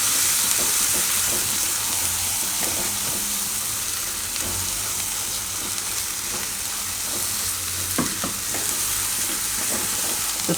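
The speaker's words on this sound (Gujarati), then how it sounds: "તો થોડીક વાર આ મસાલાને આમાં આપણે પકાવી લેવું" Masala cooking with cashew and banana in a pan, a loud constant sizzle and hiss with soft rhythmic scraping from stirring and a couple of brighter clinks near the end.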